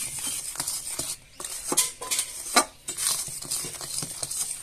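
A spoon stirs cooked, cooling jaggery in a pot for a Bengali gur chola recipe, with close, uneven scraping and knocking strokes against the metal and short pauses between them.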